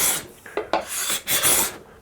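A cabinet scraper shaves a wooden surface into curls, giving a quick series of short, rasping strokes, close and loud, with brief gaps between passes.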